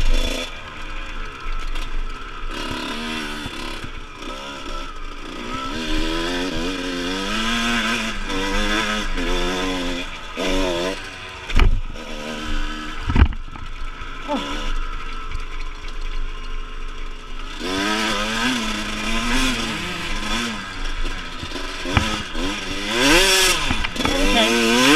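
Kawasaki KX 125 two-stroke dirt bike ridden through slippery mud, its engine loud and close, revving up and down in wavering bursts with brief throttle chops, and no talk over it.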